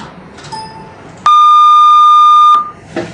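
A single synthesized pure tone, one half of a telephone keypad button tone, sounds loud and perfectly steady for about a second and a half, then stops, with quiet room noise before and after.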